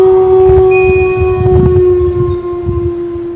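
Eerie horror-style music plays loud and continuous, built on steady droning synth tones with a wavering siren-like quality and a busy low rumble underneath.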